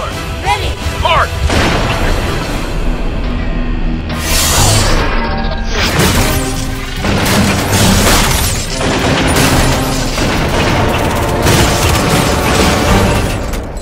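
Rapid, continuous turret fire hammers against an energy shield in a Red vs Blue Halo machinima test, with loud, dense bursts and crashing impacts filling the whole stretch and a few brief louder hits along the way.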